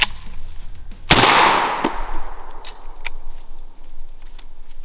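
A gunshot from a newly bought gun fired outdoors at a barrel, one sharp loud crack followed by a short echoing tail, then a few fainter clicks and pops, with no voices.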